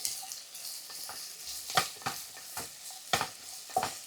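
Sliced medium onions frying in hot oil, a steady soft sizzle broken by several sharp stirring scrapes of a spoon against the pan at irregular intervals.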